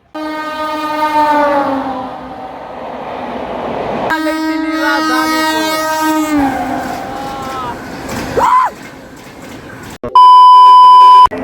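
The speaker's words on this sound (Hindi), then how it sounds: "भाई साहब पटना राजधानी तेजस लिवरी के साथ क्रॉसिंग 130 फ्लैट।" Patna Rajdhani train in Tejas livery passing at 130 km/h, with loud, sustained multi-tone horn blasts over the rush of wheels and carriages, then a sharp, steady electronic beep near the end.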